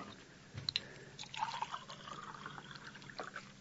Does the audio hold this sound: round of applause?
no